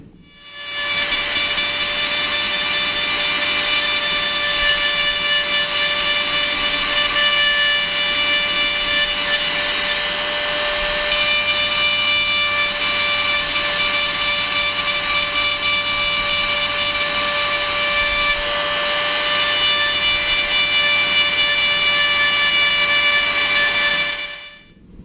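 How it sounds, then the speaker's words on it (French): A Dremel rotary tool carving the contour of a wooden toolbox lid for a Motobécane moped produces a continuous high-pitched whine with grinding texture, steady and close for over twenty seconds with a brief dip midway. "c'est à la Dremel que je vais venir fignoler tout mon contour et ma profondeur pour être"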